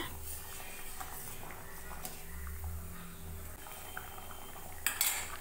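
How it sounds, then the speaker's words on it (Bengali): Boiled taro being mashed with the back of a ladle in a pot, giving soft scraping and light metal clinks against the pot, ending in a brighter clatter near the end. "হাতার পেছনটা দিয়েই গুঁড়ো করে দিচ্ছি, গুঁড়ো হয়ে যাচ্ছে"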